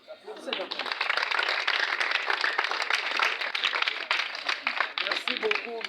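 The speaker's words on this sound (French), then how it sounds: "Si vous êtes content, même il faut applaudir." Schoolchildren at a school in Yolo Sud clap together after being asked if they are happy, a loud, dense burst of applause that builds quickly and holds steady, with children's voices audible underneath.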